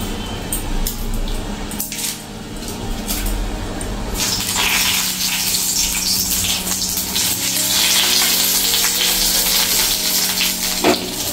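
A wet, washed bay leaf dropped into hot oil sends up a loud, steady crackling sizzle that swells and holds close to the mic without pause.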